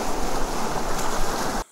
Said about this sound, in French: j'ai même fait 2 heures de paddle pour enregistrer le son des vagues